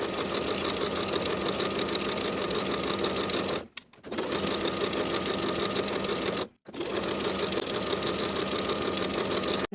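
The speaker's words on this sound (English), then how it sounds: "I'll sew the binding in place all around the neckline from center front to center front with a 1/4 inch seam allowance and a narrow zigzag stitch" A sewing machine runs a narrow zigzag stitch, binding a knit V-neck top's neckline with a 1/4 inch seam allowance; a steady, close motor whir continues with two brief pauses, and no one speaks.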